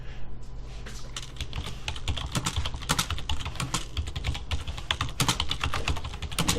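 Someone types a comment on a computer keyboard, with quick, irregular bursts of close key clicks and taps running steadily for several seconds, and no speech.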